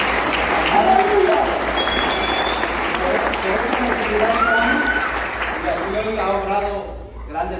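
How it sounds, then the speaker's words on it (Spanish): Church congregation applauding loudly and steadily for several seconds, with voices calling out over the clapping before it thins and fades near the end. "Un aplauso a Dios, hermano."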